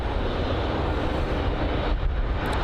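A British Airways Boeing 787-8 Dreamliner landing at London Heathrow, heard as a steady, distant broadband jet rumble and roar without a break.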